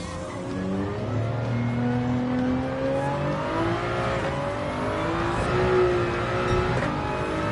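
A race car in Gran Turismo 7 brakes hard for a corner, its engine note falling and shifting down through the gears, loud and close with a constant tyre and wind rush and no voices.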